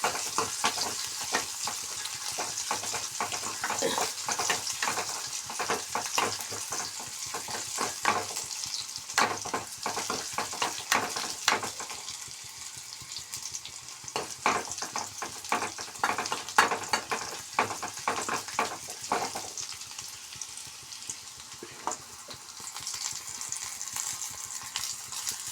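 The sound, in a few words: onions frying in pan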